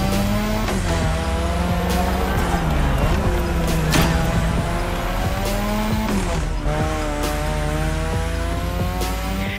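Car in The Crew Motorfest drifting around a drift track, engine revving steadily with shifting pitch while tires squeal and skid continuously, loud and close throughout.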